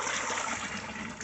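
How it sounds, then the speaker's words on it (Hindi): Water gushes steadily into a bucket from a tap, filling it in a continuous, fairly loud rush with no talking. "तो भरते हैं पानी अभी बाल्टी में और कटरा में।"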